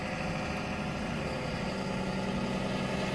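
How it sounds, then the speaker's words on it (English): A tow truck engine runs at a steady idle, a continuous low rumble with mild vibration heard alone at moderate distance. "Tow truck."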